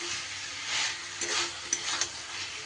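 Fried potatoes and pointed gourd being stirred into hot oil and spices, a steady close sizzle with soft scraping strokes of a spatula and a couple of sharper clinks against the pan.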